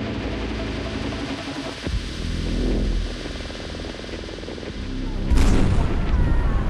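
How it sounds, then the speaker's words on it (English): A frag grenade goes off in the video game Fallout: Frost, a loud low boom bursting over a steady rumbling game ambience, with a sharp broadband blast near the end. "I guess I'm gonna probably have to waste a frag grenade"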